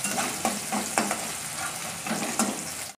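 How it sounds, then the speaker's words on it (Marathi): Onion sautéing in a pan for brinjal curry, a dense close sizzle punctuated by rhythmic scrapes and knocks of a ladle stirring, stopping abruptly at the end, with no speech. "कांदा पण छान गुलाबी रंगावर परतून घ्यायचा"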